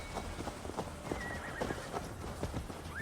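Horse hooves clip-clop in a quick steady rhythm with a whinny, heard from a horse in the video game Assassin's Creed Valhalla, moderately close and fairly faint with no talk over it.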